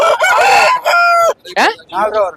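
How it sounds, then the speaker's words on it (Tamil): A rooster at a weekly chicken market in Kunnathur, Tiruppur district, crows loudly and close, a strained multi-part call broken into several bursts, with faint market noise beneath it. "இந்த சேவல் கொண்டு வந்துருக்கீங்களா என்ன ரேட் வருது அந்த சேவல்"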